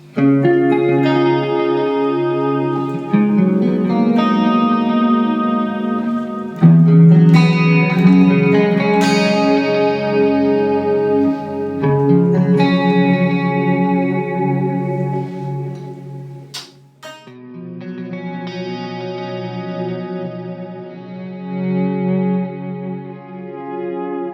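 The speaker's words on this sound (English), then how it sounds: "Obviously it's set to 80s reverb, but again a kind of a digital hall reverb will also get you close." An electric guitar plays sustained chords and melodic lines drenched in a lush, spacious digital hall reverb with long shimmering tails.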